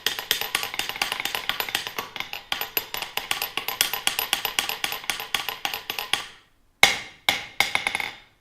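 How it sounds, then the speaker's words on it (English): A hammer raps an anvil in a blacksmith shop in a rapid, steady run of sharp metallic strikes at close range, then pauses and gives a few last separate blows. "So I'm going to rat-a-tat-tat the anvil"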